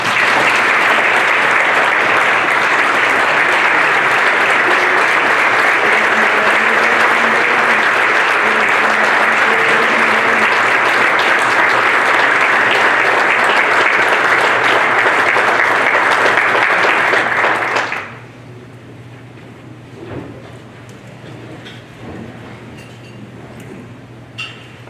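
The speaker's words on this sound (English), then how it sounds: "Let's give them another round of applause" Loud, sustained applause from the audience at a university athletics hall of fame induction ceremony goes on for about eighteen seconds, then cuts off to a quiet room with small scattered sounds.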